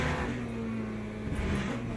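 Race car engine in the Le Mans Ultimate racing game drones steadily at a constant pitch, a continuous close hum with no clear revving.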